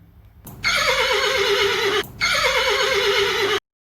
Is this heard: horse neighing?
yes